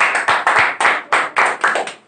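A small spoken-English class claps for a student speaker, a handful of close, sharp handclaps in an uneven rhythm with no talk over them.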